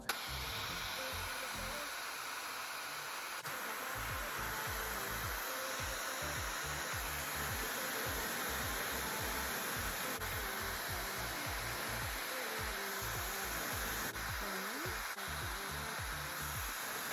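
A smart touch-screen hair dryer runs continuously during a blowout, a loud steady close whoosh of rushing air holding for the whole stretch, with no talk over it.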